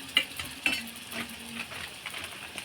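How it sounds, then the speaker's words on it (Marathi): Spice mix stirred into varan curry in a pan, with soft scraping strokes and a couple of sharp utensil clinks against the pan over a faint sizzle, close and quiet, no talking. "अर्धा चम्मच मसाला व्यवस्थित मिक्स करून घ्यायचा"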